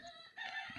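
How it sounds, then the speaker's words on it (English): A rooster crows once, a brief harmonic call rising after a short quiet start, close and fairly faint with no talking. "And my rooster George agrees"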